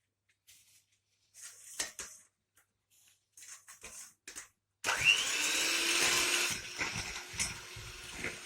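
Electric mixer whisking sugar batter for an apple charlotte, starting after scattered kitchen clinks and then running as a loud continuous whir for several seconds.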